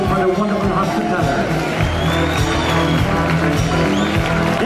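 A country music festival crowd in Monaghan claps and cheers continuously, a dense, steady wash of applause with voices mixed in, with no break throughout.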